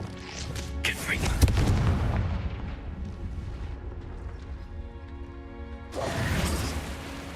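A Confringo fire spell bursts in Hogwarts Legacy with a loud, booming blast and whoosh, then a sustained rumbling roar that fades and swells again near the end, with a voice calling out over it.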